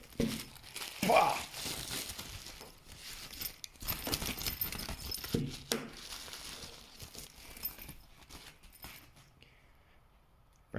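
New keys for a Triumph Bonneville being unwrapped from crinkly packaging and jangled nearby, with a run of irregular rustles and metallic clinks, then quiet at the end.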